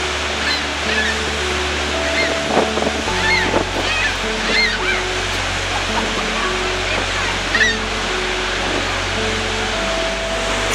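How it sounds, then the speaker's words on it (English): Roaring Horseshoe Falls at Niagara Falls, a dense, constant wall of rushing water with wind and mist, loud and unbroken, with faint background music underneath. "And the most iconic, Horseshoe Falls."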